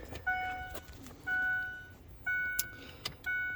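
Quiet, repeated electronic warning chimes inside a 2008–2009 Ford Taurus X as the ignition key is turned on, mixed with a few small mechanical clicks, heard close up.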